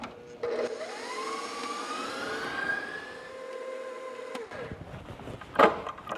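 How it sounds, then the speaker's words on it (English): A stand mixer with the paddle attachment beats a loose dinner-roll dough, giving a steady motor whine with a rising pitch that is fairly loud and close, with no talk over it. "we're just gonna beat it for a few more minutes with the paddle on before we switch to the dough hook"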